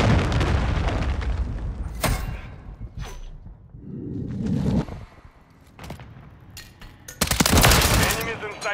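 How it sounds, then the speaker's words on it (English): A cruise missile strike in Call of Duty produces heavy booms, with sharp blasts and bursts of gunfire scattered between quieter rumbling stretches, loud and close. "Hostiles launched the cruise missile."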